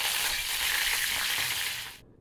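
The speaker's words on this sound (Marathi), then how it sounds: "आणि आता कढीपत्ता पण तळून घेणार आहे मी." Washed and dried curry leaves frying in hot oil, making a loud, hissing sizzle with fine crackle that holds steady and then stops abruptly near the end.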